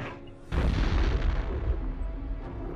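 A bomb goes off in the Turok 2 video game, a sudden heavy boom about half a second in, followed by a long rumbling low-end roar that slowly fades.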